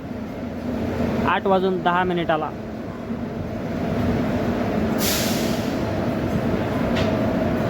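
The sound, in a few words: Udyan Express train departing Mumbai CSMT station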